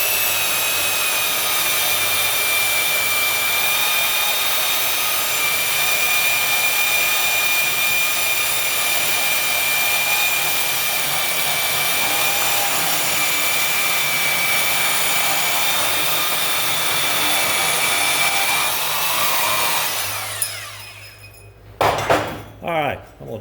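A band saw cuts a notch into steel pipe, its steady loud whine and grinding running continuously for about twenty seconds before stopping, followed by a few clanks.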